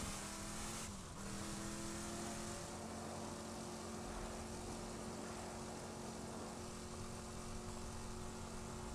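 A vehicle drives in the video game Borderlands 2, its engine giving a steady droning roar with a brief dip near the start, continuous and fairly loud, no speech.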